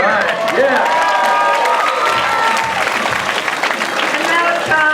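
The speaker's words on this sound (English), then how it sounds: "I think you all of you out there ought to give yourselves a hand." A sellout roller derby crowd in an indoor arena claps and cheers loudly, with whoops and shouting voices over dense, sustained applause that holds at full strength throughout.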